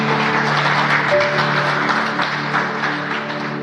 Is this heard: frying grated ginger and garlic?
no